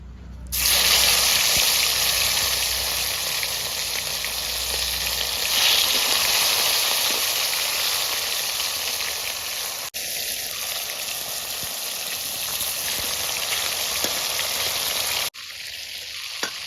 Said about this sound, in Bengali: এইভাবে আমি মাংসগুলো ভেজে নিচ্ছি, পরপর ভেজে উঠিয়ে নিলাম।